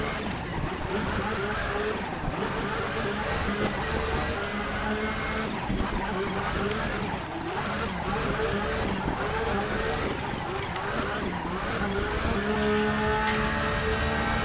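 A Porsche 991.2 GT3 R races at Spa in the Raceroom game, its engine a continuous loud whine that rises and falls through gear changes, with occasional tire squeal mixed in.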